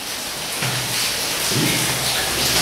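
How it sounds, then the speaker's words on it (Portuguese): Loud rain drums on a surface indoors with a steady hiss, and heavier thudding surges as water drips from a leak, with no talking. "Como a chuva faz muito barulho aqui"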